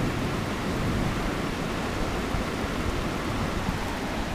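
Heavy rain pouring steadily during a Bangkok thunderstorm, a dense, even hiss close by with no distinct thunderclap.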